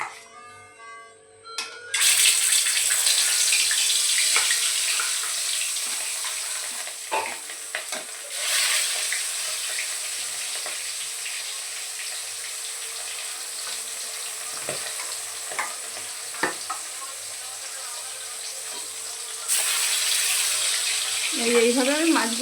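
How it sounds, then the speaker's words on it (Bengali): Fish frying in hot oil in a wok, a loud continuous sizzle with scattered pops and spatters and occasional utensil clinks, running steadily for a long stretch. "এবার আমি মাছ ভেজে নেব।"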